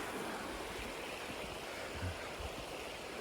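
A river flows nearby in a quiet steady rush of moving water, faint and continuous, with a couple of soft low thumps partway through and no voices.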